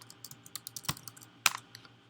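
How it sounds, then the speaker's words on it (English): An answer is typed on a computer keyboard during a Quizlet study session: a quiet, close run of irregular key clicks with a couple of sharper, louder strikes. "It tells me the correct answer, and then I have to type it in"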